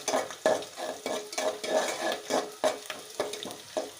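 Potatoes cooking with greens, chicken, onions and spices in a pan, with a steady sizzle and repeated rhythmic scrapes and knocks of a spoon stirring against the pan, close up, with no one talking.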